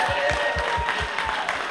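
Audience applause honoring William, a young man at a Down Syndrome Association of Central Texas calendar event, a steady wash of clapping with a faint rhythmic low thump beneath, moderately loud throughout.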